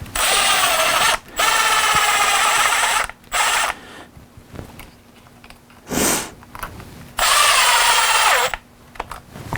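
A cordless power drill drives bolts on a Traxxas XRT RC truck in several loud, whirring bursts separated by pauses, with faint clicks and handling noise in the gaps.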